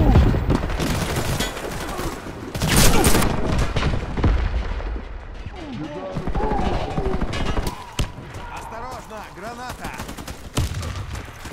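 A grenade blast and a rapid exchange of gunfire in the Warface video game, with an AA-12 shotgun in play: repeated sharp cracks and booms, some in quick bursts, spread through a busy firefight with a voice shouting in between.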